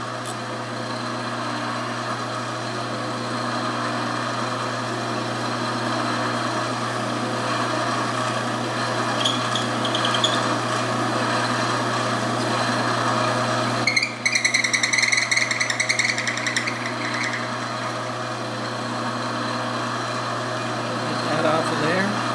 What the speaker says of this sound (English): continue drilling until we get to our blue tape